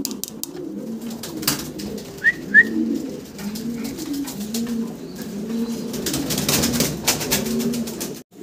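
A pair of Mundian fancy pigeons coo close by, the male giving repeated rolling, low coos in a steady rhythm, with a couple of brief whistles and light background noise.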